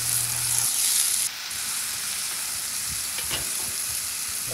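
Smash burger patty topped with Colby Jack cheese and a tortilla sizzling on a hot griddle as it is pressed down, a steady close frying hiss with no voices.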